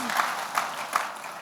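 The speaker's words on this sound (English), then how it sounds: "you should be still clapping." Audience applause at a leadership talk, a soft wash of many hands clapping, with a few slightly sharper claps standing out, heard briefly and evenly.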